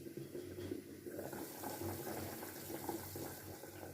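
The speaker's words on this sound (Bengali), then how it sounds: "এবার ঝোলের জন্য পানি দিয়ে দেবো।" Water is poured into a pot of duck meat curry to make the gravy, a steady close splashing and trickling that runs for the full four seconds without any talk.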